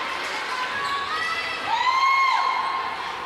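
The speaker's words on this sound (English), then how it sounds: "One of the fans got real emphatic there, applauding his performance he's had tonight." Fans at a varsity boys high school basketball game cheer in an echoing gym, with a few high-pitched shouts and whistles rising over the steady crowd noise, then the sound swells briefly louder.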